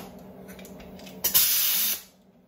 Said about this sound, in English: what you do is blow the powder off